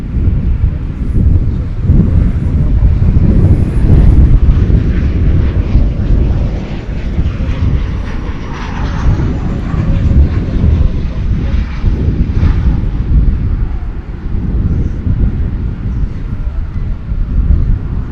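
An American Airlines jet takes off from runway 18 left at Dallas/Fort Worth airport, a loud, steady broadband engine roar sustained throughout with wind buffeting the microphone.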